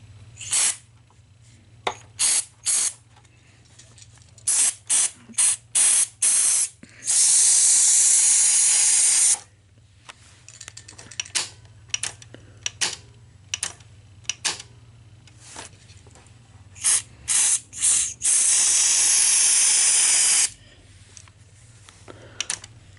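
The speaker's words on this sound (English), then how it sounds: "Let's spray some cleaner into that solenoid and just see." Cleaner sprays from an aerosol can into a solenoid of a Sony SL-HF300 cassette deck, with two long hissing blasts among a series of short sharp spritzes and clicks, close and fairly loud, nobody talking.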